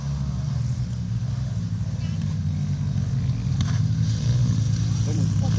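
Pit bikes race around a track at the Wroughton Warriors event, their small engines droning and revving in a continuous buzzing rumble at moderate distance, with spectators talking over the noise.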